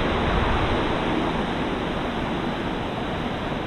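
A river in Kings Canyon National Park flows past, a loud, dense, continuous roar of rushing water close by, with no one speaking over it.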